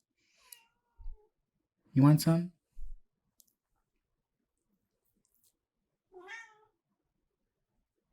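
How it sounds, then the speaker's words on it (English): Pet cats meow a few times in a quiet kitchen, brief and moderately close, while someone talks to them. "All my kitties are coming."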